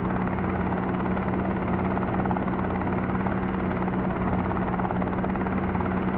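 Helicopter engine and rotor drone in a helicopter simulator game, a steady loud whine with a constant buzzing hum held evenly throughout, no voices.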